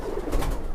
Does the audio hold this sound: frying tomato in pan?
no